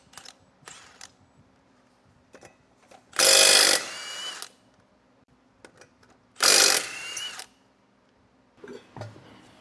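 A socket ratchet loosens lug nuts on the wheels of a 2021 Dutchmen Voltage trailer. Two loud, close bursts of grinding, whirring rotation stand out against quiet clicks and handling noises.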